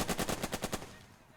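Rapid automatic gunfire in the WWII tactics game Burden of Command: a tight burst of about seven evenly spaced shots over most of a second, loud and close, then fading into a short decaying tail.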